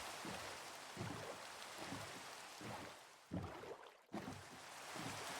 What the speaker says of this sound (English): There is a lot of rain. It is raining.